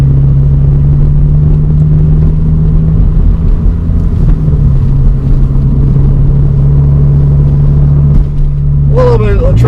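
A 2020 Subaru BRZ Limited pushed hard uphill gives a steady engine drone throughout, with a rise in pitch near the end as it revs up. No one speaks.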